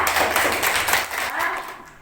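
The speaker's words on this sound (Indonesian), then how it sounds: "Tepuk tangan dulu untuk teman kita, Natasha" Students in a classroom clap for a classmate, a quick close burst of many hands that thins slightly midway and fades at the end, with faint voices underneath.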